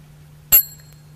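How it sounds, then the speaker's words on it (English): A small mindfulness bell struck once with a wooden bell inviter gives one bright, close strike that rings on faintly, over a low steady hum. "This is a mini bell, and this one is a bell inviter."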